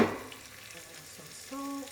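Red peppers frying in a pan for lobster and shrimp ramen, a quiet, soft sizzle with light stirring and brief clinks, no talking.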